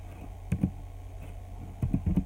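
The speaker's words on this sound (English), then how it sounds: "I'm gonna type in J-Rock Reacts and see if it's able to be found" Faint clusters of keystrokes come from typing on a computer keyboard: two short bursts of a few soft taps each, separated by a quiet pause over a low background hum.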